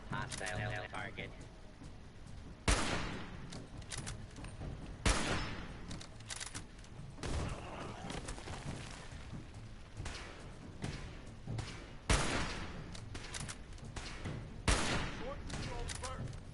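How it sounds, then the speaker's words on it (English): Rifle fire in Fallout 4, with loud sharp shots coming every couple of seconds over a constant dense bed of game noise and rumble, close and punchy throughout. "Let's move way the hell back from the thing and take it out with the rifle."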